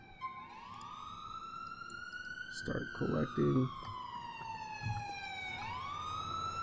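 A police car siren wails in the GTA LCPDFR game, its long rising and falling tone sweeping steadily while brief bursts of other sound and a short spoken phrase cut in over it.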